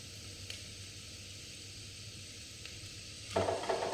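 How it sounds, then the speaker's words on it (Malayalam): Chopped tomatoes sautéing in a pan for chicken curry: a faint, low hiss that swells into a louder, crackling sizzle near the end, with no voices. "ഇനി തക്കാളി വഴറ്റണം."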